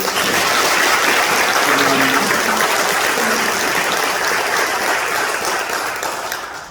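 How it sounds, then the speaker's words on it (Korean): Church congregation at Daejeon Seongji Church applauding in celebration, a loud, dense wall of clapping from many people that holds steady before tapering off at the end. "우리 축하의 박수를 한번"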